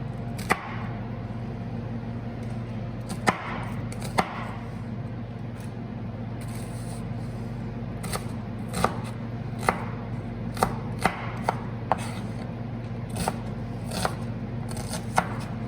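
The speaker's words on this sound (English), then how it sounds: "we need some onion for our curry. I'm not going to cut this really small. I'm going to cut it fairly, sort of a medium dice" A knife chops an onion into a medium dice for a curry on a board, with sharp irregular cuts spread over steady background hum, in quick clusters and occasional pauses.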